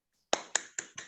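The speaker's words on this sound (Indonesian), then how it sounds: "Keplok tangan dulu." Four sharp hand claps in a quick, even rhythm, close and clear, during an online peer-teaching class with children.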